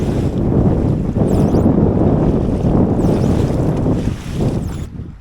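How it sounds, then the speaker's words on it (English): Strong 15 to 25 mph northeast wind buffeting a fishing boat off Delaware, a loud continuous roaring rumble of wind noise with water sloshing, no talking. "15, 20, 25 mile an hour northeast wind"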